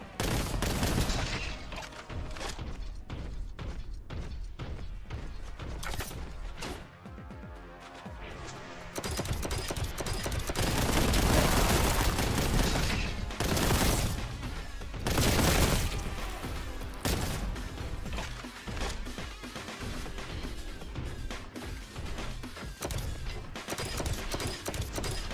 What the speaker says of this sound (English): heavy bolter's definitely a Terminator weapon.